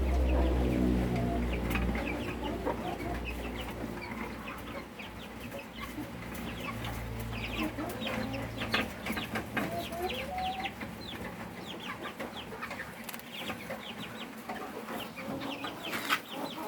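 A two-week-old hybrid chick on a farm peeps in short, repeated high chirps, with clucking fowl and other farm birds around it and a low hum fading early on.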